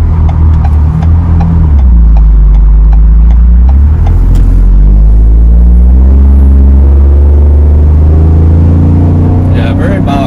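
A Ford Bronco with a Flowmaster American Thunder axle-back exhaust accelerating under load, a loud, deep, continuous engine drone that rises in pitch through the gears, heard from inside the cabin with a person talking over it.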